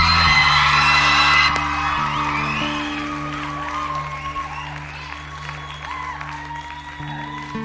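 A crowd at the Tónkvíslin 2007 song contest applauds the winner: loud, sustained clapping mixed with whoops and cheers, with tonal music sounding under the crowd noise.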